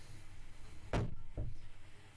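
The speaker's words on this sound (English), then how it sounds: "Let me close that door." A door in a home kitchen closes with one solid thud, quickly followed by a second softer knock as it settles shut, set against quiet room tone.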